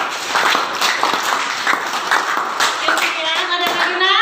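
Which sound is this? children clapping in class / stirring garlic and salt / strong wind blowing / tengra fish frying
children clapping in class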